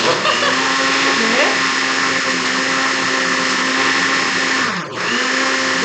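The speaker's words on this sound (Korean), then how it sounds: "믹서기가 네, 지금 돌아가고 있고" A blender whirs loudly and steadily while making protein soy milk noodle broth, its motor pitch holding constant before briefly dipping and revving back up near the end.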